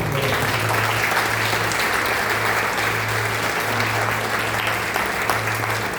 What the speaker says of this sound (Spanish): Aplausos, un aplauso.